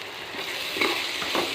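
Spicy tomato rice stirred in a pan over steady frying hiss, with a couple of soft scraping strokes from the spoon close by.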